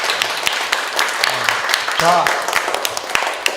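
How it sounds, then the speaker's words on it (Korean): Clapping for the mayor during a visit to Gumi's Hyeongil Elementary School: loud, close, irregular claps from a group, with a brief voice speaking over them partway through. "감사의 뜻으로 다 같이 시장님께 큰 박수 부탁드리겠습니다."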